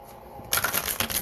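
A quiet pause gives way to a crisp riffling of cards being shuffled, with papery flutters and soft snaps close by.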